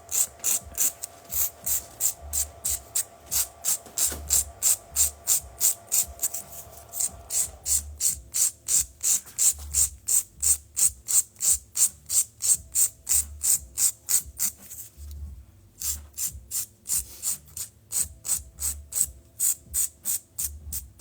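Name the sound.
filing a fingernail cuticle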